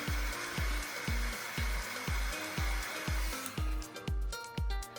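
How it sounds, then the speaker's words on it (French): A heat gun blows hot air over ink on a metal plate, a steady airy roar running throughout, with a rapid, regular thumping pulse beneath it and a brighter hiss toward the end. "Pour un séchage de l'encre plus rapide, je passe un petit coup de pistolet thermique."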